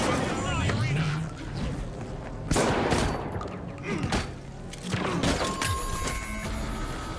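Rapid bursts of AK rifle fire from the video game The Finals rattle through dense arena combat noise, with a player talking over the shooting throughout.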